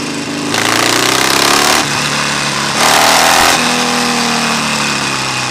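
Harley-Davidson XL1200 Forty-Eight motorcycle engine under way on a fast road ride, a loud, rough V-twin drone rising and falling in pitch as it revs through gears, with wind rushing over it and no talk.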